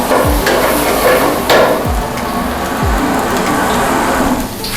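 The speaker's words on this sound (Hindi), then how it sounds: "आप देख सकते हैं कितना बढ़िया ढंग से जो यहाँ पर इसको फ्राई किया जा रहा है" Momos frying in a pan at a café in Solan give off a loud, continuous sizzle and hiss, broken by three sharp knocks of a utensil against the pan at roughly even intervals.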